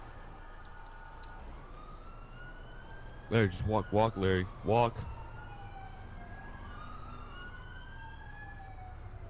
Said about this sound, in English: I hear sirens.